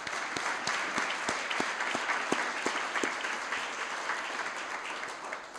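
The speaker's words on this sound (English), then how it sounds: "if we can give them all a round of applause" Steady applause from an audience at a startup demo day, many hands clapping continuously at an even level with a few sharper claps standing out.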